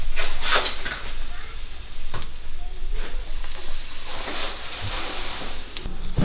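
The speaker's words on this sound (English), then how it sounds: "Let's see, it's sizzling." Hot oil sizzles in a pan while stir fry rice cooks, a steady, close hiss with some brief louder crackling flares.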